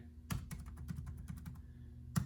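Keys clicking on a wireless Bluetooth keyboard, a string of separate close taps including the space bar and caps lock, then a brief pause before one last sharper press, over a low steady hum.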